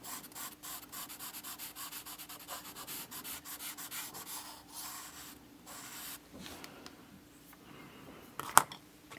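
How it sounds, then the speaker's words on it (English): A pastel pencil is sharpened with rapid rhythmic scraping rasps that are soft and close, easing into slower strokes and ending with a small sharp tap. "And then we're going to sharpen up the 590 real sharp."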